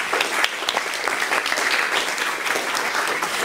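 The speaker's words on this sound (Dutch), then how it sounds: "Ja, een applaus." Dense applause from a lecture audience at SPUI25 in Amsterdam, many hands clapping steadily and loudly for the whole stretch with no talk over it.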